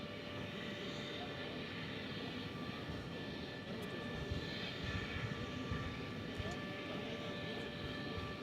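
A Turkish Airlines jet taxiing at DFW airport gives a steady, broad engine roar that holds at an even level throughout, with a faint higher whine riding on top.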